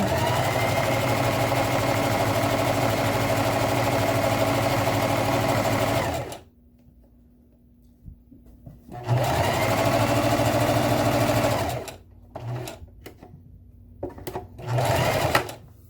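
A sewing machine stitches a simple handbag in loud, fast mechanical runs that stop and start, with quiet pauses and short bursts between longer stretches of sewing.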